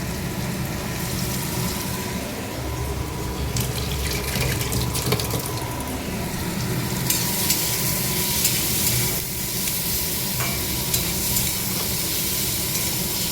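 Cucumber curry fries with a light amount of spices in a pan, giving a steady, close sizzle with stirring scrapes throughout and no talking.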